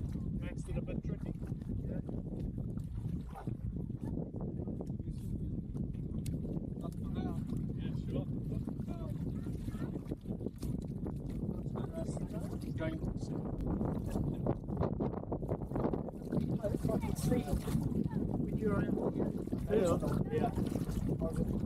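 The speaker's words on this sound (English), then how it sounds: "think the gusty wind makes it a bit tricky." Gusty wind buffeting a microphone aboard a sailing boat, a continuous low rushing roar that swells and eases throughout, with people talking faintly beneath it.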